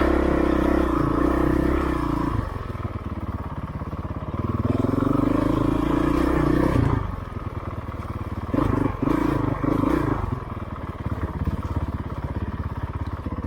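Motorcycle engine revving hard in second gear on an off-road adventure trail, the roar rising and falling in long surges with brief dips between them, loud and close throughout.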